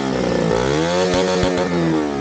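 Motorcycle engine revving hard on a bike with a wiring fault, stopped on a road trip from Jammu to Ladakh; a loud, steady, near engine drone with rising pitch and sharp bursts of clatter.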